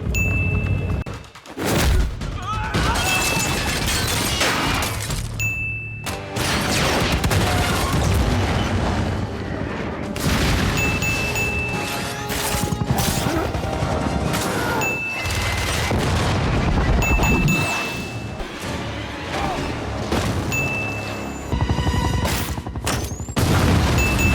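Repeated booming explosions and bursts of gunfire from the TV show The Falcon and the Winter Soldier, loud and dense, mixed with a dramatic soundtrack, with only brief pauses.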